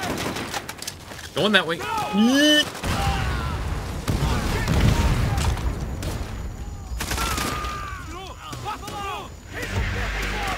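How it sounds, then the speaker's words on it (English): Gunfire in the video game Call of Duty: World at War during co-op play, bursts of shots crackling from several directions throughout, with players talking over the shooting. "Who the fuck is shooting me then?"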